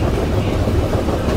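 Train running in an Indian Railway video game on a high-speed Patna to Howrah route, a loud continuous rumble with steady clattering wheel noise throughout, no voices.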